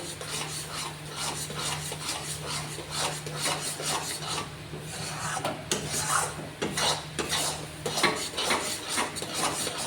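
A spatula scrapes and stirs chhana in a pan in quick, continuous rubbing strokes with metallic rasps, close and fairly loud, under a faint steady hum, with no talking.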